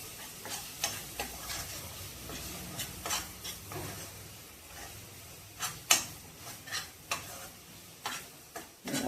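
A spice paste with garam masala being stirred and fried, a low sizzle under repeated close scraping and knocking of a spoon against the pan in an uneven rhythm.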